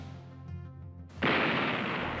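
USS New Jersey battleship firing 1,900-pound high-explosive shells: a low tonal hum cuts off and a single loud, close blast bursts in, then a broad roaring wash that carries on to the end.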